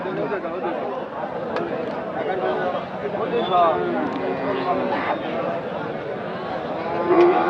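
Cattle lowing at a busy cow market, several drawn-out moos rising above steady crowd chatter and people talking nearby.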